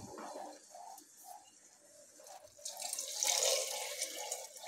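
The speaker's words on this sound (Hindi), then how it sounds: "अब हम इसमें पानी डालेंगे।" Water pours from a tap into a cooking pot of rice for desi khichdi, a close, splashing gurgle that grows fuller and brighter as the flow strengthens.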